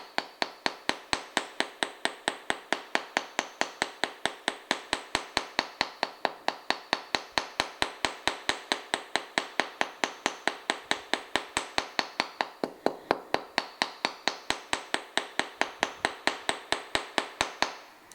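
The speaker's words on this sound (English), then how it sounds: "you gotta place it like this on your hammer, on your block, and you just start hammering" A small hammer strikes metal wire on a hard block, shaping a hoop earring, in a fast, steady stream of sharp metallic taps, close by, continuing without pause.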